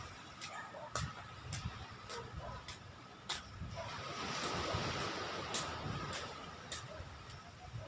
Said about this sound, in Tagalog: Nandito tayo sa tabing dagat.